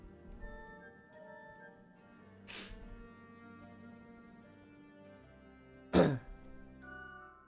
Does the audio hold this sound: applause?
no